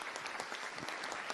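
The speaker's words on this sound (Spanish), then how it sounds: "Un aplauso, por favor, para los conferencistas" Congress audience in Bogotá applauding the speakers, a steady, dense round of many hands clapping heard alone, fairly even in loudness from start to finish.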